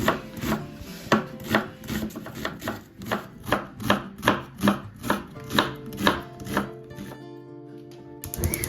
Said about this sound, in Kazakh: Одан кейін пиязды тураймыз.